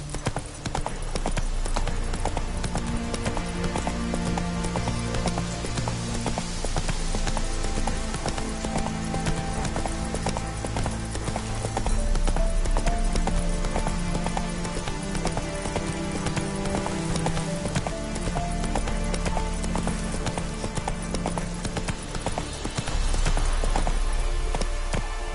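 Roach the horse gallops in The Witcher 3, a steady rapid clip-clop of hooves on the ground running continuously over a soft rain-like wash, with occasional faint tonal game sounds in the background.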